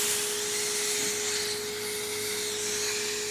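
A pet grooming vacuum kit, the Stellesett Pro Vacuum Tech 5-in-1, runs on suction with a steady, loud broadband whoosh and a constant motor whine, close and unbroken throughout.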